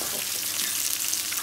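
Ginger and chilies frying in a pan for a village-style fish curry, a steady dense sizzle with faint stirring crackles, close and continuous without any talk.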